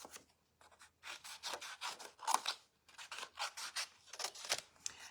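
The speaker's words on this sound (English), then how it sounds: "we're going to grab our paper snips" Paper snips cut out card pieces, rapid bursts of crisp snipping strokes in quick runs with brief pauses between, close and clear, with no talk.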